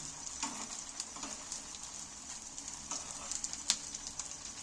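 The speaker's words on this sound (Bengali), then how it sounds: "আর এইটা রেসিপিটা ভাজার সময় আস্তে করে আঁচে ভাজবে" Soft, steady sizzling of semolina and potato snacks frying in oil over low heat, with scattered light crackles and pops throughout, fairly quiet and close.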